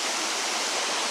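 Erawan Waterfall in Thailand flows at low water, a steady broadband rush of falling water that holds evenly throughout, close and fairly loud with no voices.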